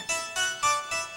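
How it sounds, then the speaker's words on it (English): Four bright plucked-keyboard chords in steady succession, each with a crisp attack and shimmering upper harmonics, harpsichord-like and electronic, with no voices. "There's a harpsichord track."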